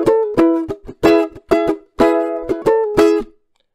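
Ukulele strumming the chord progression of a TV theme tune, a run of crisp, bright strummed chords in a bouncy rhythm with short gaps between strums, played close and alone with no talking.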